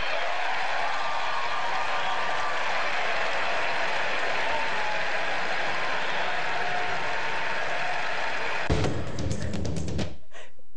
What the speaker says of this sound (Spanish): Ahí están Meryl Streep y J-Lo, además sí, aplaudiendo